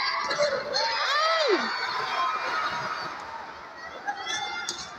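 Crowd noise rises and swells through a UST men's volleyball match against DLSU Green Spikers in UAAP Season 86, with whoops and shouts amid loud, continuous cheering, voices calling out over it.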